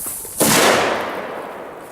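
A small Pol-Expance H1 firecracker explodes on grass with one sharp, loud crack heard from a distance, followed by a decaying echo.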